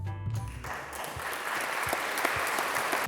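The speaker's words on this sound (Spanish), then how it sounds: "Este es el sonido de los aplausos." Steady applause from many hands clapping, a dense crackling wash of claps that holds for about three seconds, loud and close with no talk.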